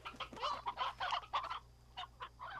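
Hen hen chickens in Slime Rancher cluck in a quick, busy run of short bursts, fairly close and clear, with a couple of sparser clucks trailing off at the end.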